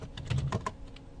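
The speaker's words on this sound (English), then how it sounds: "We'll just type an ifconfig here." A brief run of a few soft keystrokes as a terminal command is typed on a computer keyboard, close and quiet, with no speech.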